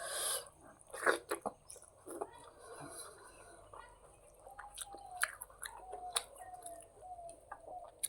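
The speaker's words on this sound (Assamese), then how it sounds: "কিবা এটা চোবালোঁ" Close, wet chewing and crunching sounds of eating rice and fried vegetables in irregular bursts, with a few soft clicks and faint background noises.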